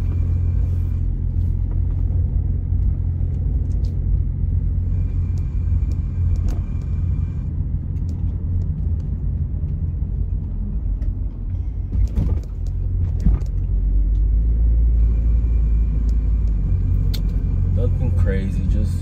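A 2008 Toyota Prius on a short test lap gives a constant low road rumble and cabin drone from inside the car, with a few faint knocks and bumps throughout.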